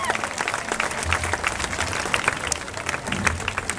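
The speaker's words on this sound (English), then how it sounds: "Give yourselves a round of applause for that." Audience applause at a comedy show, a dense steady patter of many hands clapping together, close and fairly loud throughout with faint crowd voices beneath.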